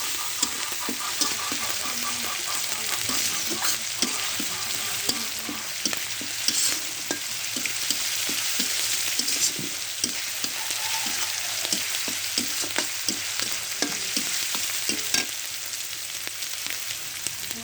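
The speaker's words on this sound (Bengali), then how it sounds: "দিয়ে এবারে ভালোভাবে ভেজে নেব।" Soybean chunks and pointed gourd fry with onion-garlic paste in a pan, with a steady sizzle and repeated scraping clicks from stirring throughout, no voices.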